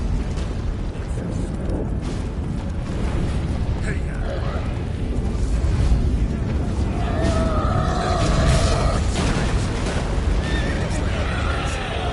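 A horse whinnies in The Witcher 3 amid loud, busy game action with rumbling booms and scattered voices in the background.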